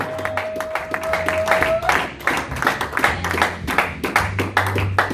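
A church congregation claps and cheers in praise, brisk rhythmic handclaps close by with a voice calling out, a sustained note under the first part, and a low hum from the hall throughout.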